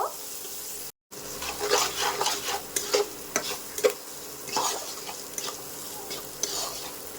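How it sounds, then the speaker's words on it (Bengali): Rice with turmeric powder gets stirred in a pan, a spoon scraping and clinking in irregular bursts over a faint sizzle, with a brief dropout near the start. "দিয়ে এটাকে একটু ভালো করে নাড়ি চাড়িয়ে নেব"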